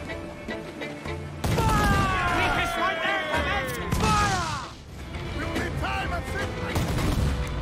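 Gunfire in the pirate-era action game Assassin's Creed IV Black Flag, loud repeated shots and booming blasts with whistling sweeps, dense and continuous over game ambience.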